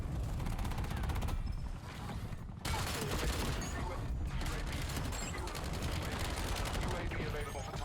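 An SMG, the Dravec 45, fires in Black Ops 7 in loud sustained automatic bursts with a brief pause, close and dense, under game announcer callouts.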